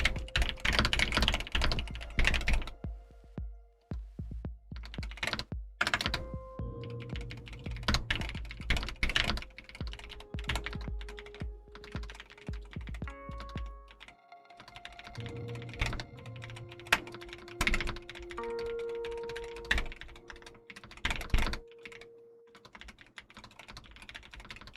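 Typing on a computer keyboard, dense bursts of close key clicks and clacks with brief pauses between runs, loud and busy against faint tonal background sounds, no talking.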